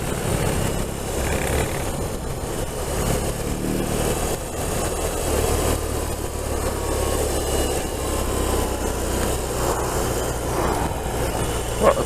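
Big motorcycle engine running while riding, a steady loud drone with rushing wind throughout and no pauses.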